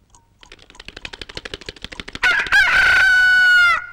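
A rooster-crow alarm clock goes off at dawn: a quickening run of sharp clucking pulses builds up, then breaks into a loud, sustained crow that holds for over a second.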